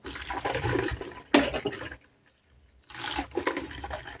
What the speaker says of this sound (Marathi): पूर्ण चिक मी आता अशाच पद्धतीने